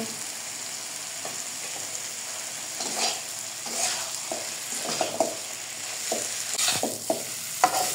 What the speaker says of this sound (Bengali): ফুলকপি মশলার সাথে ভালো করে কষিয়ে নিয়েছি।